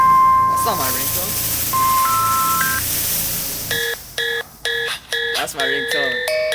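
A mobile phone ringtone plays loud and close as a series of bright electronic beeping tones in a quick stepped pattern, after an earlier, different chime over background sound.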